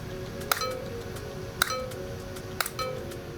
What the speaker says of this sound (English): The sound you are hearing is a cowbell